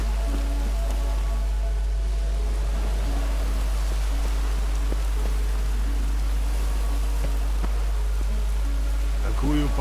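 Steady rain falls in The Witcher 3: Wild Hunt, a constant even hiss over a low hum, with faint scattered game sounds and a voice talking intermittently over it.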